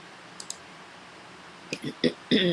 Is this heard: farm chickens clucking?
no